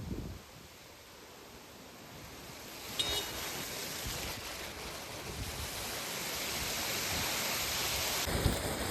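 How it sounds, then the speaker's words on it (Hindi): Heavy rain falling in a steady broadband hiss that builds slowly in loudness, with a few brief knocks and rattles near the recorder. "आज ज्यादा तेज बारिश हो रही है"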